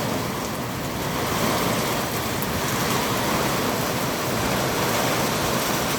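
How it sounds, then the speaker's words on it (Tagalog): Steady, dense rain pouring down on a farm in Saudi Arabia, a loud continuous hiss with no pauses or voices. "Ulan, makidlat."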